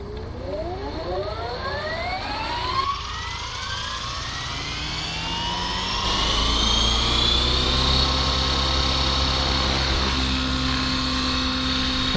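An Align T-Rex 550X RC helicopter spools up as the throttle rises, its motor whine climbing steadily in pitch and loudness into a strong, even rotor drone, heard close and alone with no talking.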